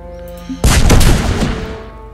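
Colony bombing in the Master of Orion space strategy game, a sudden heavy boom followed by a dense rumbling barrage that slowly fades over a low electronic hum.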